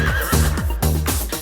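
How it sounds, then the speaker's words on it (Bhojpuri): A horse whinnies in a short, high, wavering neigh set against a bouncy rhythmic beat. "हिन हिन करत घोड़ा भागे,"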